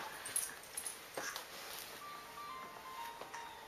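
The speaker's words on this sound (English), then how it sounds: "she's distracted by the dog now" A dog whimpers and whines in short, high, faint bursts near a happy baby at a homecoming, the soft cries scattered over a quiet room.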